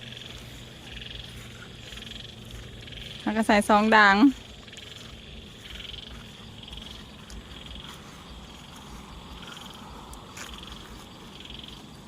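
Frogs croak in a single close, loud burst of rapid pulsed calls lasting about a second, near a rural Thai rice-field setting, with quiet ambient background and faint talk before and after.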